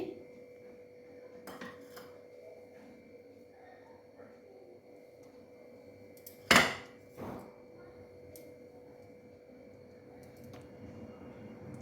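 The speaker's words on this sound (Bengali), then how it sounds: "দারচিনিগুলো আমি একটু ফাটিয়ে নিচ্ছি" Cinnamon sticks snapped by hand in a kitchen beside hot oil with cardamom, one sharp loud crack standing out over a faint steady hum, with a few softer clicks around it.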